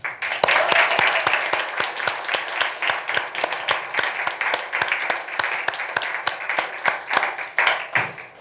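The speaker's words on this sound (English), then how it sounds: "let's have a nice round of applause for them" Audience at a talk on saving the past applauds in a moderately loud, distinct patter of individual claps that continues steadily for about eight seconds.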